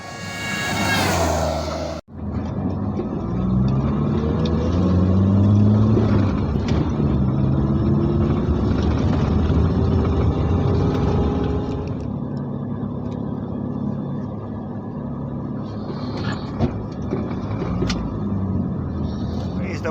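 An off-road rally jeep engine at the Hub Jeep Rally, a steady loud motor rumble with rising and falling revs that holds for most of the stretch, starting right after a brief sharp cut, with faint talk in the background.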